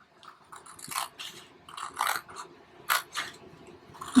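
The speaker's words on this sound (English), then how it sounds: "Again, cut a miter cut in there." Scissors snip a miter cut into paper for a flower box project, a series of short, crisp, close cuts spaced irregularly, with no talking.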